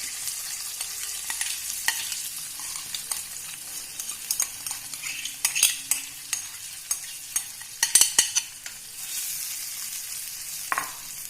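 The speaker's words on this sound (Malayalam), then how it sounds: "ഇനി അതിലേക്ക് ഈ ചാലിച്ച് വെച്ചിരിക്കുന്ന ഈ മുളകും കൂടി ഇട്ട് കൊടുക്കാം." Chili paste fries and sizzles in oil for a mango pickle while a spoon stirs it, a steady hiss broken by scraping strokes and bursts of crackling.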